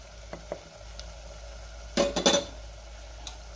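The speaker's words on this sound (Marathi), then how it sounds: "पावडर मसाले घातल्यावर सुद्धा मी 1 मिनिटभर व्यवस्थित परतून घेतलेले।" Spice powders being stirred in hot oil for chole masala: a faint sizzle with a few quick scraping clinks of a spoon against the pan, clustered in the middle.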